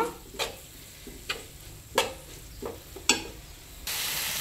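Tomatoes tipped into cabbage frying in a pan, soft sizzling under a handful of sharp spoon scrapes and taps spaced about a second apart, then a louder steady hiss at the end.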